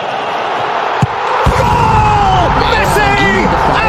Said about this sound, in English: even the crowd cheering